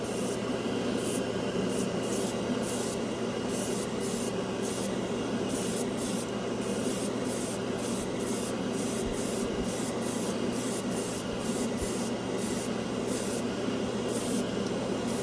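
A cheap $14 airbrush sprays Deco Art acrylic craft paint in a continuous hiss, broken by short regular pauses as the trigger is pulsed, steady and close with no talk.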